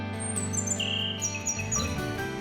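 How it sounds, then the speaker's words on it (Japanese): A Ryukyu robin (akahige) in an anime scene sings a run of high, clear whistled chirps and descending notes over a quiet low background hum, with no talking. "赤ひげ？ トカラ列島でしか見られない鳥なんだよ。"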